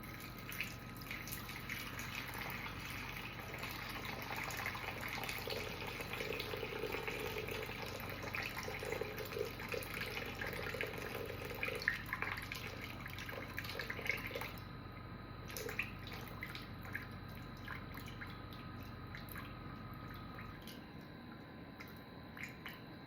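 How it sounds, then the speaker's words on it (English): Water poured into a mixing bowl of flour for homemade pasta dough, a steady continuous trickle and splash lasting about twenty seconds before stopping, with no talking. "now I'm gonna add water"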